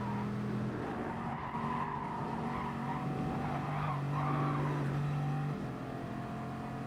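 A Bugatti Veyron race car in GT Sport drives and skids, its steady engine drone holding throughout with a rising tone near the middle and tire squeal mixed in, fairly loud and continuous with no talking.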